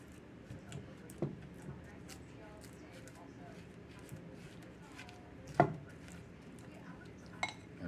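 A spoon works compound butter and a teaspoon of instant coffee together in a bowl, giving soft scraping with a few sharp clinks against the dish, the loudest near the middle and again near the end.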